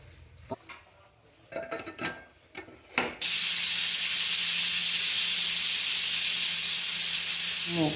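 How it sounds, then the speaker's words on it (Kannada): A few clinks of kitchenware, then a loud, steady blast of hissing steam that keeps going without a break, like a pressure cooker letting off its whistle. "ಎರಡು ವಿಷಲ್ ಕೂಗಿಸ್ಕೊಂಡ್ರೆ ಸಾಕು"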